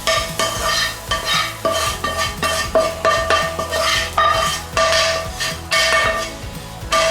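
Dumpling filling with coriander roots frying in a hot pan, stirred steadily so a utensil scrapes and clatters against the metal in quick repeated strokes over a continuous sizzle, close and fairly loud, with no talking.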